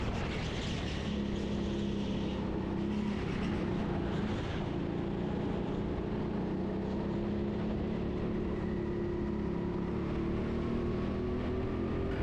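A rental go-kart engine at the TeamSport Sheffield indoor track drones steadily and close throughout, its buzzing pitch rising and falling slightly with throttle and no pauses.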